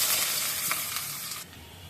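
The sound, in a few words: onions frying in oil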